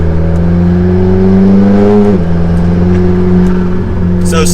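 A tuned McLaren MP4-12C with a 3.8-litre twin-turbo V8 and seven-speed dual-clutch gearbox pulls steadily from inside the cabin, a loud droning engine note rising in pitch, dipping briefly at a gear change, then climbing again.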